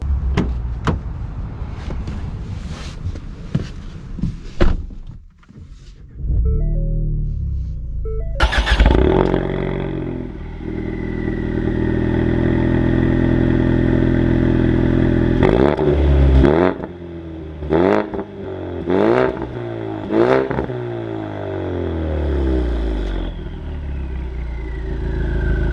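A Ford Mustang EcoBoost High Performance sets off on a drive. A door thuds shut and the engine starts, then idles and revs up through several gear changes, loud and close from inside the cabin.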